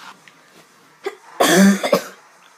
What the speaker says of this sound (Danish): Jeg skulle lige hoste.